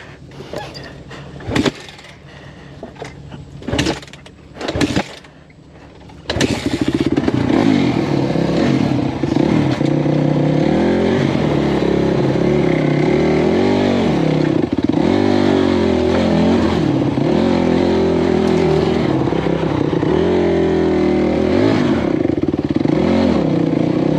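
A dirt bike engine revs and roars continuously while riding off-road on a Kentucky trail, loud and close, with shifting pitch as the throttle rises and falls, after a few brief knocks and clatters at the start.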